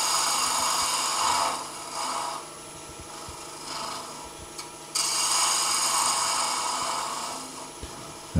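A scraper held sideways against spinning wood on a lathe cleans up side grain on a turned salt and pepper shaker, giving a steady hissing rasp over the constant hum of the running machine.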